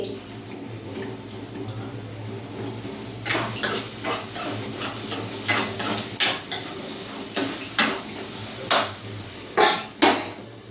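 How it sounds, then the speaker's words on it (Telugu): A spoon scrapes and clinks against a cooking pot as jaggery is stirred in, a series of rhythmic metallic strokes growing louder after a quiet start, close and clear with faint kitchen hum. "అలాగా బెల్లం కలిసేలాగా చేసేసి"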